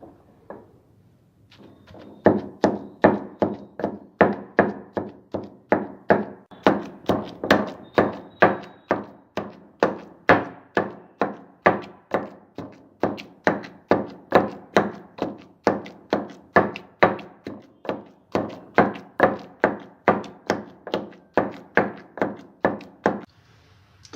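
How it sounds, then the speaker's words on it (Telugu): Raw tamarind chutney with fenugreek leaves, turmeric and salt being pounded in a stone mortar, a long run of steady rhythmic thuds, roughly two per second, close and continuous for over twenty seconds. "ఇందులో పసుపు, ఉప్పు వేసి మెత్తగా నూరుకోవాలి"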